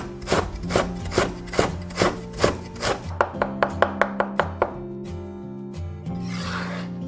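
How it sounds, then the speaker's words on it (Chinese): Kitchen knife chops crushed ginger into mince on a board, a quick run of sharp rhythmic taps speeding up into a tight burst, then slowing to a few final cuts over a low hum. "切成姜末"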